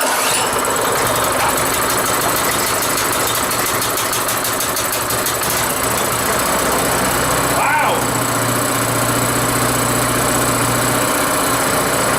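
A small tiller engine, started by pull cord with the choke on, runs at a steady loud idle with a fast even putter and a slight rocker-cover tick; a brief exclamation and talk come over it.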